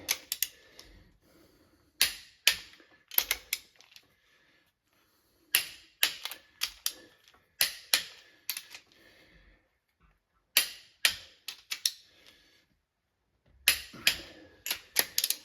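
Sharp ratcheting clicks in short bursts from a torque wrench tightening cylinder head bolts on a small block Chevy 350, close and crisp, with quiet pauses between each run of pulls.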